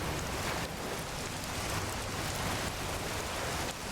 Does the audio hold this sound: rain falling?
yes